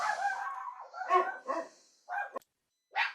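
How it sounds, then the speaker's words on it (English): Dogs barking indoors, several close, loud yips and barks in quick bursts, with a short pause before a final sharp bark. "my dogs start barking"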